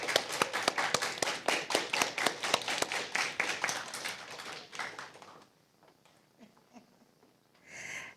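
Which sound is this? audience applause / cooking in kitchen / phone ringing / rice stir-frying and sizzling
audience applause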